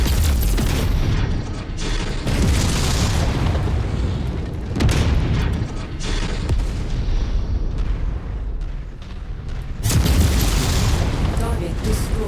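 Heavy explosions boom again and again as turrets are blown apart in a MechWarrior-style mech combat game, with dense rumbling blasts filling the whole stretch and a fresh loud burst toward the end.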